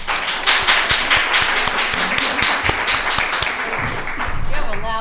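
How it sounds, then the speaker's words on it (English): Audience applause and cheering fill a county board of commissioners meeting after an employee is honored for 20 years of service, with dense steady clapping and whoops running loud throughout. "have a loud cheering section"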